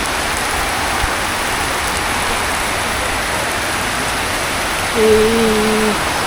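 Steady rain pours down across the Bangla Academy grounds in Dhaka during a Boishakh shower, with market stalls set up nearby; a dense, even hiss continues throughout, and a brief tonal sound cuts in near the end.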